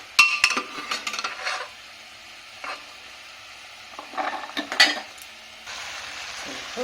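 Boiled peas are strained and tipped onto fried potatoes for goat-fat ghugni, making scattered clatters, clinks of a utensil and pan, and a faint sizzle between the bursts.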